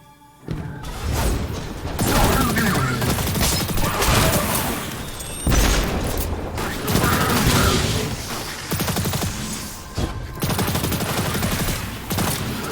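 Gunfire in Destiny 2 as a player shoots a rock, with loud, dense bursts of rapid shots and crashing impacts running almost continuously. Brief gaps break the bursts, and a heavy boom lands midway.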